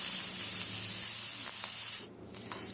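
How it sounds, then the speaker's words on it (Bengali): Chopped onion sizzling in melted butter with cinnamon and cloves in a pan, a constant close hissing fry that briefly dips near the end, no talking. "পেঁয়াজ হালকা ভাজা ভাজা করে নিচ্ছি"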